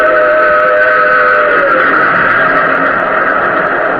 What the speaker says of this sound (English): plunging from the tunnel's mouth, like some black, terrible monster, roared a train. It tore by me in a deafening roar.